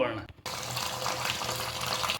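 Tap water gushes steadily into a vessel to soak rice for mushroom biryani, a loud, continuous splashing rush that starts after a brief pause and runs close-up to the end.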